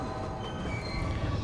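Rumbling, rattling train in the video game Spider-Man 2, a continuous loud roar of wheels on rails with faint metallic squeal, close and steady throughout with no talk.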